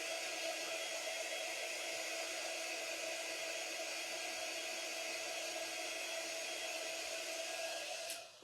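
A blow dryer running steadily on flowers before they go into floral foam, a constant airy whir held at even loudness for several seconds, then cutting off at the end.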